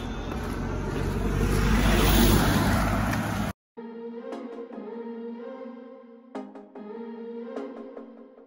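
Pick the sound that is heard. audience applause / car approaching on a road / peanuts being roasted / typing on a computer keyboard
car approaching on a road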